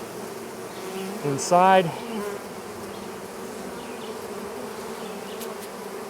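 Honey bees in a hive relocated by truck from a cat house, buzzing as a steady close drone throughout, with a brief louder buzz of a bee passing near and a single word spoken softly.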